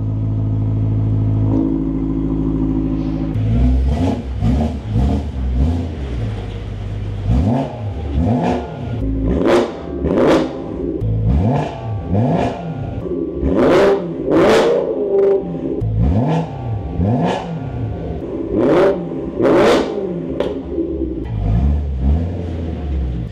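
A BMW E92 M3 engine idles low, then is blipped through a series of sharp, loud revs that rise and fall repeatedly, heard close and alone.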